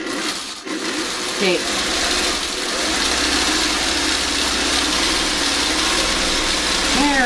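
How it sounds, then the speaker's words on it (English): A sewing machine runs a line of stay stitching within the seam allowance of a quilted birdhouse block, a steady close whir that continues throughout, with a brief spoken word near the start. "I'll run my stay stitching and then I'll trim up the block."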